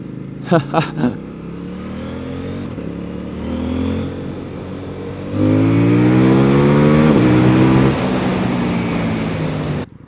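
A 2024 CFmoto 800NK motorcycle accelerates hard, with a few brief blips, then a loud rising engine roar climbing through gears in sweeps before cutting off, with a voice over it.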